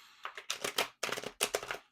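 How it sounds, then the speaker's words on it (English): Tarot cards being shuffled in quick papery riffles and slaps, several close bursts of crisp rustling separated by short pauses, with no talking. "And as I'm shuffling the tarot cards"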